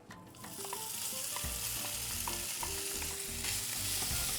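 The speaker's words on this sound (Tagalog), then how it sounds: "At igisa na natin yung longganisa." Crumbled longganisa sausage sautéing in hot oil, with a loud steady sizzle that swells as the meat goes in, broken by repeated spatula scrapes and stirs, close up with no voices.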